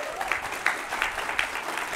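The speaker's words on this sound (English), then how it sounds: "Yes, round of applause there." Audience applause at a storytelling panel discussion, a brief round of clapping from the crowd heard fairly faint and steady, without talk over it.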